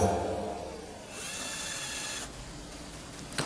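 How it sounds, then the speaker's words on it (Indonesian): A small drill bit bores a spark plug hole in an engine head with a thin, steady whine. The drilling is fairly quiet and continuous, with a slight shift in pitch partway through and no talk. "Pertama-tama kita harus menggunakan mata bor yang kecil ya, sebagai penyenteran awal."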